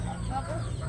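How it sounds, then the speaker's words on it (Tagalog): A chicken clucks in one brief, close burst as it is shooed away at a rural Filipino home. "Nagbubugaw ng manok."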